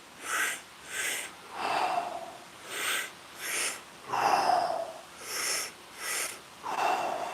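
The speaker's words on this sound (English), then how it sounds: "We're using mostly mouth breathing for this, just to control the aperture of the mouth to get the airflow the way we want." A person does controlled mouth breathing during a guided breath-fitness exercise, a steady sequence of about nine close, breathy inhales and exhales in even rhythm, some longer and rougher than others, with no talking.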